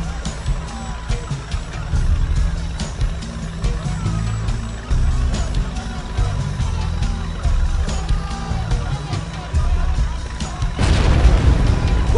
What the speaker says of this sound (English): We've got explosions!